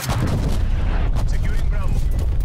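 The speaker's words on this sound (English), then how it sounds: "Death call, incoming artillery." Incoming artillery fire in Call of Duty Black Ops Cold War, heavy continuous booming blasts and rumbling explosions packed close together, loud and dense, with brief game voice chatter.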